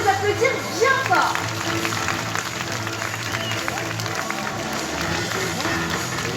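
An audience at a ZooParc Beauval show applauds loudly, a dense sustained wash of clapping from a large crowd after a brief burst of voice and music at the start.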